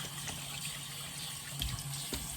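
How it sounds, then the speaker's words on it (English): Warm water runs from a bathroom tap in a soft, steady, fairly faint trickle, with no one talking. "So I usually do some warm water."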